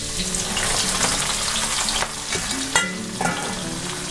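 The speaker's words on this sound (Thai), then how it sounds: "พอน้ำมันร้อนแล้วก็ให้เราเอาใบคะน้าที่เราซอยไว้เทใส่ได้เลยนะคะ" Shredded kale leaves fry in very hot oil, a loud, dense, continuous sizzle with a few clattering stirs and bubbling bursts close by.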